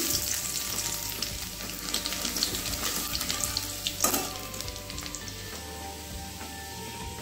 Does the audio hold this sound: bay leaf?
yes